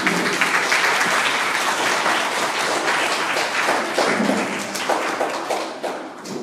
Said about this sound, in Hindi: खुद कर दे दो तालियां इन बच्चों को